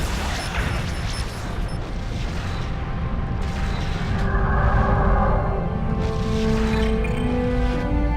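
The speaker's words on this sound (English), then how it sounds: "Romulan target destroyed." A Romulan starship blows up in the Star Trek Legacy video game, heard as a loud, sustained rumbling explosion with a heavy low roar and a drawn-out, swelling tail over several seconds.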